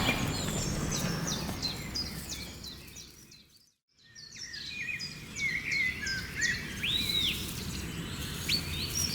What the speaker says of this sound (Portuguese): o chiurear de pequenos pássaros.